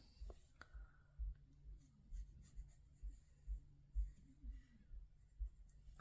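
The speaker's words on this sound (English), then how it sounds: "I need to do a little marking with like a pencil" A pencil marks paper during a cardmaking session with a stamp set, giving soft, repeated scratchy strokes in a steady rhythm, close and quiet, with no talk.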